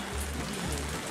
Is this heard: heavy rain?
yes